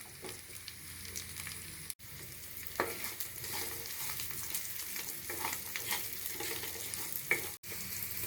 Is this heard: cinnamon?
yes